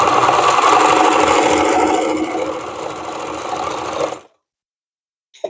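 A home sewing machine stitches after a top tension adjustment, a loud steady whirring hum with a rapid needle rhythm for about four seconds, then stops abruptly into silence before a brief click.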